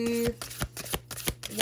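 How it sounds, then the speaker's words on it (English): Tarot cards are shuffled and pulled by hand, a rapid series of close, crisp riffling flicks and snaps in quick bursts, with a voice briefly heard at the start. "So let's pull 4 cards for you really quickly."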